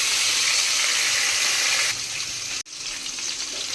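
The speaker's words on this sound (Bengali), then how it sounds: "কড়াইয়ে তেল গরম করে তার মধ্যে দিয়ে দেবো মাছগুলো মাছগুলোকে হালকা করে ভেজে নিতে হবে" A steady, hissing sizzle of katla fish lightly frying in hot oil in a kadai, loud and close, easing slightly midway with a brief break.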